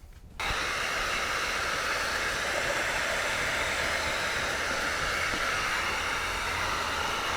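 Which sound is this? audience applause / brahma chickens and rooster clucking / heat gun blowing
heat gun blowing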